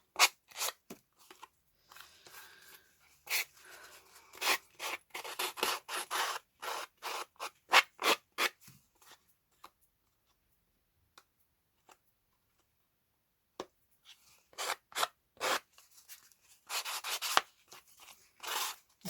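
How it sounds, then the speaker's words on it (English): Hand sanding with short, brisk rasping strokes in quick bursts, pausing briefly midway before resuming, close and fairly loud with no talking. "I do like sanding stuff off like this."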